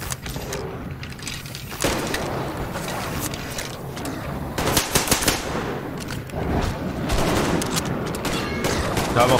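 Rapid bursts of pneumatic air-rifle fire in the video game Metro Exodus, a steady stream of sharp cracks and clatter running almost continuously, loud and close, with occasional heavier thumps.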